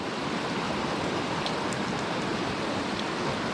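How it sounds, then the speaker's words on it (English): Steady rain patters down over a flooded creek, a dense even hiss of water filling the whole span with no breaks and no voices. "Rain's starting to come down again."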